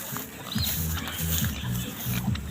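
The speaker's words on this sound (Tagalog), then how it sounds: "baboy pa namin dito" Pigs on a Philippine farm grunting in a short, rhythmic run of low snorts, fairly faint against a steady background hiss.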